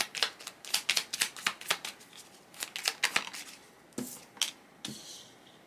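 Tarot cards shuffled by hand at close range, a quick run of crisp riffling bursts that slows into a few separate slaps and a final softer shuffle, with no talking.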